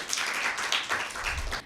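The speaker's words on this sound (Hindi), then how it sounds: "अश्विना के लिए भरपूर तालियां" A Christmas children's quiz show audience claps for a contestant, a short burst of scattered hand claps that rises and falls over a couple of seconds, fairly faint.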